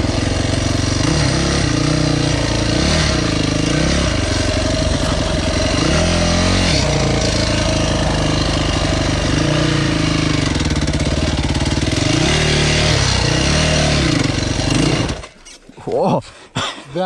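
A Yamaha WR450 dirt bike engine roars loud and close on a dirt trail, revving up and down in repeated surges before cutting off abruptly near the end.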